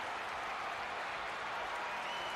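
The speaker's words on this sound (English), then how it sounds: "Look at that crowd." Crowd applause in the tennis video game Top Spin 3, a steady, dense wash of clapping from a large stadium audience, sustained evenly throughout without pauses.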